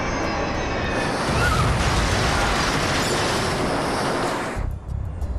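An explosion aboard the Metrojet Flight 9268 airliner: a loud, sustained roaring blast fills the space for several seconds, a dense rumbling burst that cuts off sharply near the end.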